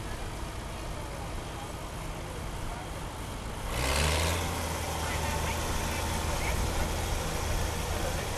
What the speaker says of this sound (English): Another one very nicely restored. Out of his collection. Oliver 770 diesel.